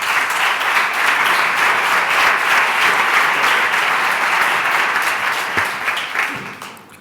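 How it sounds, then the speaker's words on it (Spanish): Loud, continuous applause from a large audience welcoming Spain's agriculture minister Luis Planas, dense and steady for several seconds before tapering off at the end. "Un fuerte aplauso."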